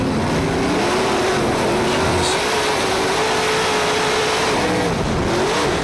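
A modified race car's engine drones loudly through a race lap, its pitch rising and dipping slightly as it holds speed, with no talk over it.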